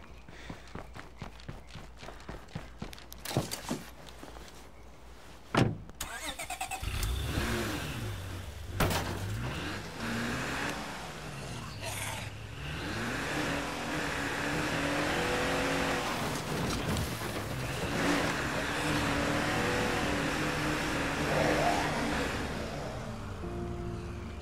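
A car is driven in the video game State of Decay 2: footsteps and clicks come first, a thud follows, then a steady engine drone rises and falls with gear changes across the second half.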